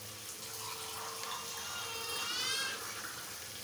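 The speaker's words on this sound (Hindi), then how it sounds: "तो इसमें अब साथ ही मैंने पानी शामिल कर देना" Water poured into a pot of desi chicken curry, a steady continuous gush and fill lasting several seconds, close and moderately loud with no talk over it.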